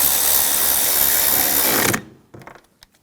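A power tool drives and tightens bolts on the intake of a 2007-2013 BMW X5 3.0L inline-six, a loud whirring burst lasting about two seconds followed by a few short ratcheting clicks.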